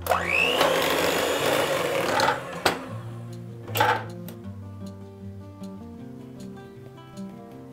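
Electric hand mixer whirring through Oreo cupcake batter with sifted flour, a loud motor drone for about two and a half seconds, then a brief clack and lower background sounds.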